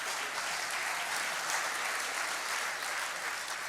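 Steady, dense applause from a conference audience at a Scottish political party's spring gathering, filling the whole stretch evenly at moderate loudness with no voices standing out.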